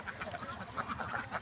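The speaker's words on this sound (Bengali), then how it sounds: "আমার হাঁস আছে 350 পিস" Domestic ducks on a duck farm quack steadily in a faint, distant, overlapping chorus over constant background noise.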